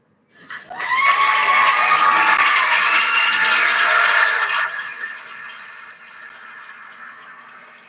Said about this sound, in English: I want to give them a round of applause, ladies and gentlemen.